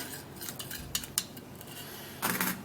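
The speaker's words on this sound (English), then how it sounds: "I'm going to stir it all up" Spoon clinking and scraping against a bowl while stirring a homemade black hair cream mixture, several light metallic taps and a louder scraping burst near the end, close and fairly quiet.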